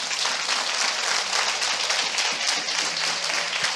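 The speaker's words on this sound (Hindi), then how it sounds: "मैं चाहता हूं हम सब मिलके यीशु के लिए जोरदार ताली बजाएं" A church congregation claps loudly for Jesus during a Hindi-language worship service, a sustained wash of many hands with a faint low tone underneath.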